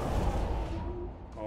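Missiles fire in the video game Gears Tactics, a dense, loud burst of blasts and rumbling explosions packed into a second or so, with a voice speaking over the barrage.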